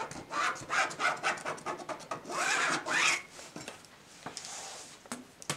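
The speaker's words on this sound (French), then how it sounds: "Je vais tracer un demi-inch tout autour avec mon frixion." A Frixion pen traces a half-inch line around an appliqué block on fabric, giving a series of short, close scratchy rubbing strokes in an uneven rhythm with small pauses between them.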